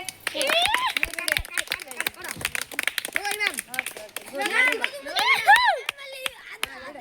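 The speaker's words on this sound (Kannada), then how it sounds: "ಅವರಿಗೆಲ್ಲ ಬಿಗ್ ಚಪ್ಪಾಳೆ ಹಾಕಿ" Children clapping for the winners of traditional games, a scattered burst of hand claps mixed with excited kids' voices and chatter, close and lively, fading into talk.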